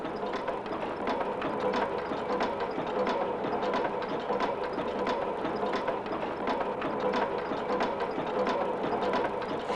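An old lace-making machine in Nottingham runs steadily, its gears and ratchets clattering in a fast, even mechanical rhythm that carries on without a break, with no voices.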